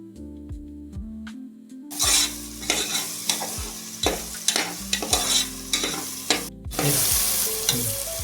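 Onion, ginger and garlic paste sautés for chicken curry, starting after a brief tonal opening. Close, rhythmic spatula scrapes and knocks sound over a continuous sizzle, with one short pause near the end.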